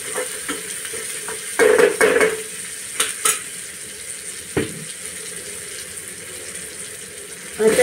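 Ginger garlic paste, half a spoon, sizzles in a hot pan while a spoon stirs it, with scraping clatters and a few sharp clinks over a steady frying hiss; no one talks.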